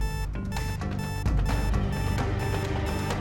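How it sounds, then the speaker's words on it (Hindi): A safe alarm rings loud and continuous with a harsh electronic tone that fills the whole stretch. "ये तो हमारी तिजोरी का अलार्म है।"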